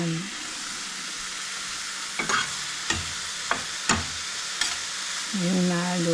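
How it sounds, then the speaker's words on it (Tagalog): Food sautéing with cream of mushroom in a pan, a constant close sizzle broken by several sharp clinks and scrapes of stirring, with brief voice sounds at the start and end. "Igigisa ko naman yung salata na to."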